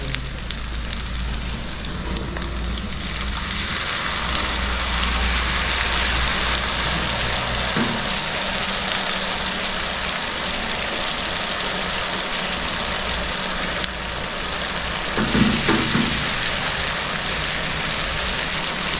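Tomatoes and masala frying in a pan for aloo mutter masala, a dense, continuous sizzle and crackle close by, steady and fairly loud throughout with no talking.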